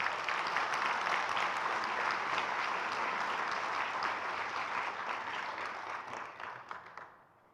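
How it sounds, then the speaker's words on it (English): Audience at a charity breakfast gives a steady, full round of applause, dense and even throughout, tapering away in the final second. "Let's have another round of applause for these folks."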